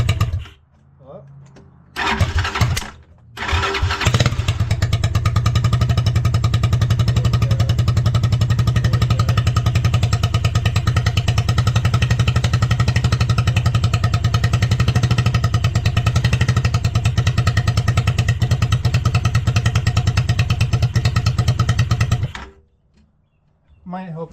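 A 250cc go-kart engine cold-starts in the morning: a few short cranking bursts, then it catches and runs loudly at a steady, rough idle for about twenty seconds before being shut off, with a voice briefly heard near the start.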